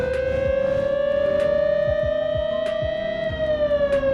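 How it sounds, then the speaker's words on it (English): Raised-pitch siren from a plane in a video game, built from a police siren sample: a steady loud wailing tone that slowly rises and falls, lasting throughout with a faint low throb underneath. "they sound too much like a police siren, because that's where the original sound comes from"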